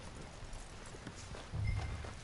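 Horse hooves clip-clop softly at a walking pace in the video game Red Dead Redemption 2, fairly faint, with a slightly louder thump near the end.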